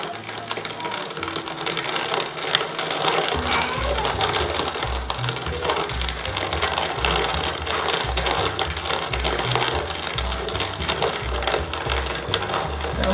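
Home grain mill coarsely cracking brewing grain for a Redhook ESB style beer, a steady continuous mechanical grinding and crunching with a rhythmic low rumble, close and loud throughout without talk.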